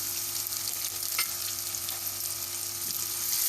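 Continuous hissing and crackling of onions frying in hot ghee, steady and close with no voices, just an even sizzle throughout.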